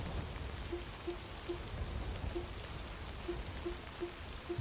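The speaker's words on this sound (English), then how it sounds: "Rain is degrading my stuff though." Steady in-game rain patters softly and continuously across the whole stretch, faint and even, with a few small repeated ticks beneath it and no voices.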